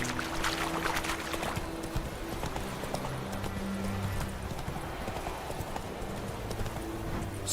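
Horse hooves clip-clop in a steady rhythm in The Witcher 3 video game, close and continuous under ambient outdoor game sound.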